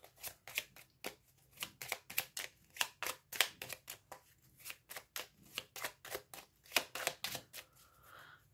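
Cards shuffled by hand for a card reading: a soft, close, continuous patter of quick riffling and slapping bursts with a steady, uneven rhythm and no talking.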